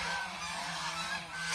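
Ducks at the edge of a farm pond on a commercial duck farm, a steady flock of honking, quacking calls heard close and continuous, with no one speaking.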